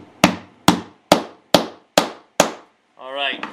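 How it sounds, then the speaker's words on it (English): A hammer raps a wooden plug into a knot hole: six sharp, evenly spaced knocks ring close and loud, each fading quickly, and a short spoken remark follows. "I'm going to give it a little rap with a hammer."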